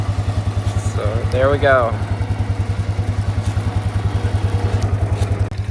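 A Polaris 6x6 ATV idles nearby in a rapid, even engine chug, with its winch pulling the machine uphill out of ruts, while someone briefly speaks over the steady pulsing rumble.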